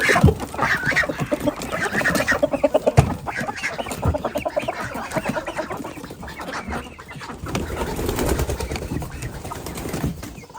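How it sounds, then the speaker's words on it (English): Chickens cluck and squawk steadily in a backyard flock just let out of the coop, several birds calling close by in loud, overlapping bursts with no talk. "first we're gonna go let out the birds out of the coop"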